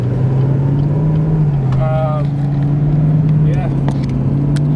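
A 2020 Chevrolet Camaro 2SS heading onto the freeway, heard from inside as a loud, steady low engine drone that holds throughout, with a brief spoken word over it.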